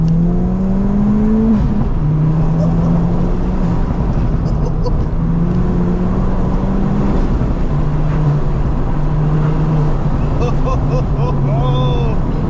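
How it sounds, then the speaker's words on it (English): A stage 3 big-turbo Ford Fiesta ST hot hatch holds a loud, steady engine drone with rising and falling rev tones, and a voice talks over it briefly. "Listen, Fiesta ST, stage 3, big turbo, let's go."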